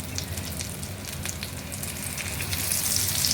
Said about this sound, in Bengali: একটু বেশি ভাজা হয়েছে